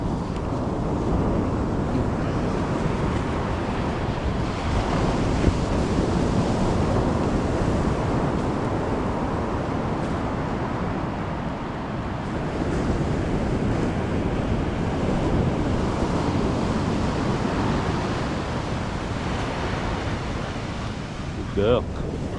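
Ocean waves break and wash continuously on an Australian beach, a broad steady roar with gusts of wind noise on the microphone and faint voices in the background.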